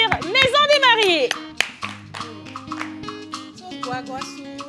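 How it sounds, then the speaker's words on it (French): An audience at a live show claps for a performer, and the applause runs briefly beneath a speaking voice and musical tones. "Applaudissez l'artiste pour moi, s'il vous plaît."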